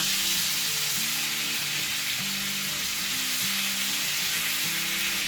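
Steak searing in a pan of melted butter, a dense, steady sizzle that fills the whole stretch, up close and constant, with a faint repeating tonal pattern underneath and no voices.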